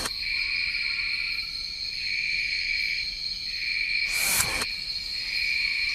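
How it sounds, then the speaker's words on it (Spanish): Insects, cicadas, drone in a continuous shrill chorus outdoors in Costa Rica, loud and steady throughout, with a brief burst of broadband noise near the end. "La maravilla del sonido de esos insectos ahí, esas chicharras."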